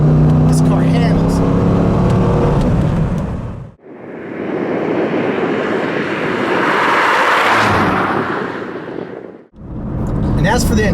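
A Chevrolet C5 Corvette accelerates hard, its engine building to a loud, sustained roar for several seconds. The roar dips briefly at the start and end, and other noise surrounds it.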